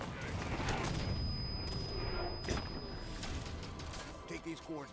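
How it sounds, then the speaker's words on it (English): Rapid bursts of suppressor gunfire in Halo 5: Guardians, a loud continuous clatter of shots filling the scene and tapering off toward the end, with battle sounds around it. "immediately switch to your suppressor and start thrusting away until they retreat."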